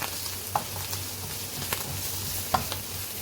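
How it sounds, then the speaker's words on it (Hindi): Mushrooms seasoned with black pepper and salt are stirred in a pan over a constant soft sizzle, with a few brief spatula scrapes and clicks standing out nearby. "अब इनको मैं अच्छे से मिक्स कर लूँगी"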